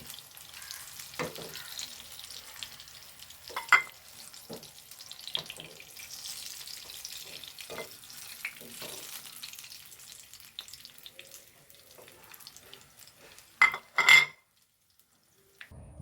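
Green chilies fry quietly in a pan while a spoon stirs and scoops them, with soft sizzling under scattered scrapes and clinks of metal against the pan, a few sharper knocks, then sudden silence at the end.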